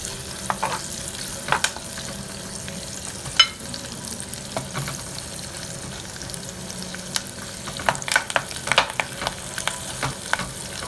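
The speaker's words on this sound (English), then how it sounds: "I have sliced half red onion. I'm going to throw straight into the clay pot." Sliced red onion frying in coconut oil in a clay pot, a low steady sizzle with scattered crackles and sharp pops throughout, close and alone with no talking.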